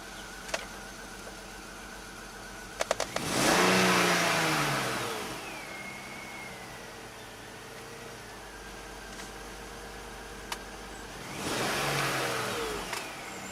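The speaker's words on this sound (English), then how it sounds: "It still has a misfire." A 2006 BMW X5 engine with a random misfire runs at idle, then revs up twice in swelling bursts, with a few sharp clicks in between, fairly quiet and close.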